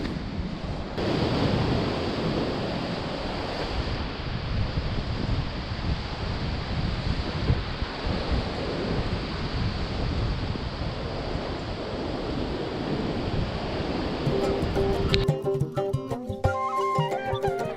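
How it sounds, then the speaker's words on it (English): Strong wind buffets the microphone on an Irish beach along the Wild Atlantic Way, a loud continuous roar of gusts mixed with surf that holds steady throughout, with a brief clearer tonal sound near the end. "The wind was insane"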